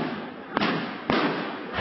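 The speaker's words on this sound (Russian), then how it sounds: "Гремят взрывы" Explosions during a riot at a parliament, two sharp, loud bangs less than a second apart over a constant roar of crowd noise.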